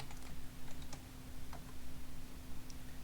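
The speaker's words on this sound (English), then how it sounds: "I'll just type in python server.py" Command typed on a computer keyboard, a short run of soft, close key clicks with brief pauses over a steady background hum, with no voices.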